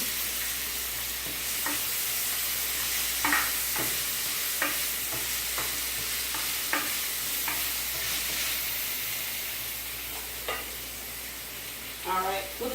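Food fries in oil in a pan, a steady close sizzle with scattered pops and occasional scraping stirs running through it.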